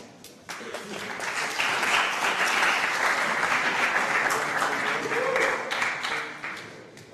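A room of people applauds a pitch team after their presentation, dense steady clapping that starts abruptly and holds for several seconds before tapering off near the end.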